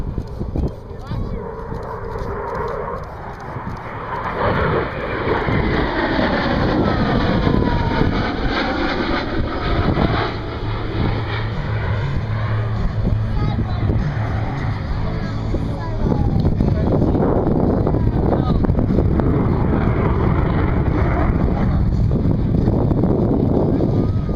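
An F-18 Super Hornet making an inverted low pass at idle power during an airshow, a broad rushing jet roar building and holding loud and close, while an announcer speaks over it.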